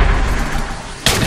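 A rocket launcher fires in a Halo-style Minecraft minigame, a single sharp, loud blast bursting out of a low, busy game background near the end.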